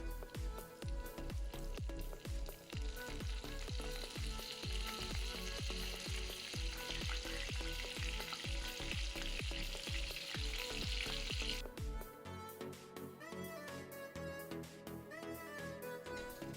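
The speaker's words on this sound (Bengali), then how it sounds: "হয়ে গেল আমার মাছটা ভাজি।" Fresh dorado fish frying in hot oil, a steady dense sizzle with a rhythmic pulsing crackle that stays loud and close, then shifts to a thinner, quieter spitting toward the end.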